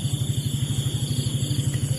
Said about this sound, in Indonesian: Kau dengar suara motor itu?